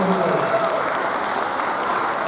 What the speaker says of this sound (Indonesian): Kita kasih tepuk tangan buat teman-teman.